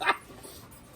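German Shepherd dogs give a short burst of barking and yipping at the start, then the sound fades to quiet room noise with a faint sound near the end.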